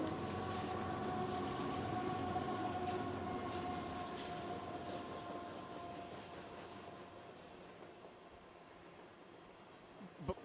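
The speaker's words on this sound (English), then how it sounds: "It's probably a 100-car train" A CSX freight train of about 100 cars rumbles past close by with a steady roar and rolling wheel noise, gradually fading as it moves away.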